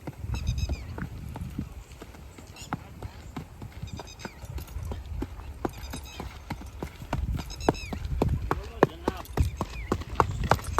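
Horses move and jump on a farm, hooves clip-clopping in irregular bursts with an occasional whinny, while people talk over them throughout.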